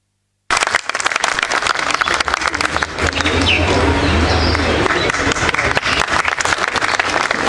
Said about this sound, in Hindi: जोरदार तालियों से अध्यक्ष जी का अभिनंदन